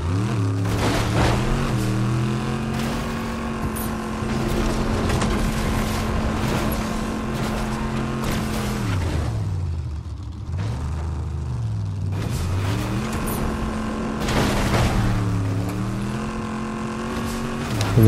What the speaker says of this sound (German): Wenn wir das Auto hier einmal nehmen.